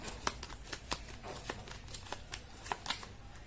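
A deck of tarot cards is shuffled close by, giving a quiet, steady run of soft riffling flicks and taps with no talking.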